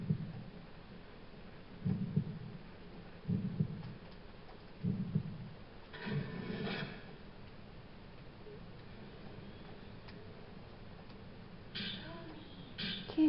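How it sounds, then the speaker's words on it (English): Muffled, low heartbeat thuds in the Fatal Frame 2 video game, arriving in slow paired pulses roughly every one and a half seconds, with brighter hissing game noise swelling in between. "Oh, I hear a beat. I hear not bass drum. I hear a heartbeat."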